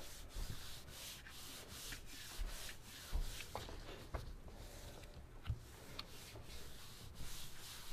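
Ink is rubbed through a stencil in steady, soft back-and-forth scrubbing strokes, repeated rhythmically and close by, with no talk over it.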